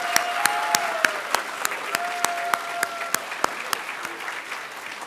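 An audience at the Penn State Lehigh Valley commencement ceremony applauds steadily, with dense, continuous clapping from a large crowd and a few sharper individual claps standing out, and faint tonal sounds drifting beneath.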